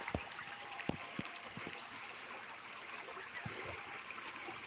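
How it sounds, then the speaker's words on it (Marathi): A small river flowing gently past farmland, a steady soft trickle and babble that fills the clip, with a few brief low knocks and no talking. "हे बघा कसं नदी वाहती बारीक"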